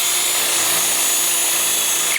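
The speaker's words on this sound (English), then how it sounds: "Ready, here's normal drill." A steady, continuous regular (non-hammer) drill whine grinds into concrete block at close range, unbroken for the whole stretch with no voices.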